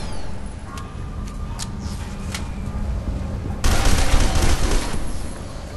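Gunfire in the F.E.A.R. 2 shooter game, a steady background of sharp shots and battle noise that swells into a louder, denser volley partway through, with no speech.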